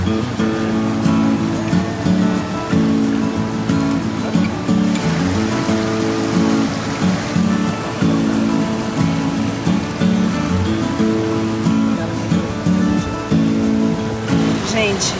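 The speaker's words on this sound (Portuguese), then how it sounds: "Tá ouvindo o barulho da cachoeira?" A waterfall at Chapada dos Veadeiros, Brazil, roars steadily, a dense rushing of water that never lets up, with murmuring voices faintly underneath.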